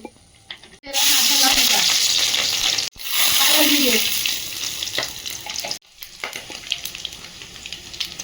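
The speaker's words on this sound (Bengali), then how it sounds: "কড়াইতে তেল দিয়ে দিচ্ছি" Cooking oil hitting a hot wok, a loud steady hiss that cuts in suddenly, breaks off, then returns and gradually settles into a lighter crackle.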